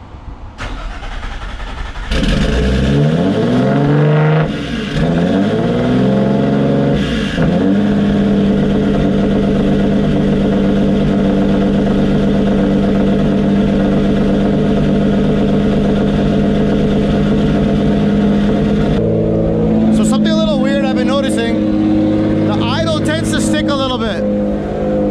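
A turbocharged Nissan G35 engine cranks and fires up, then revs sharply a couple of times before settling into a loud, steady idle close by, with someone talking over it near the end.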